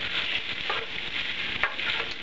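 Pasta and tomatoes tossed with olive oil and garlic in a pan give a soft, continuous sizzle with brief stirring scrapes, close and fairly quiet, with no voices.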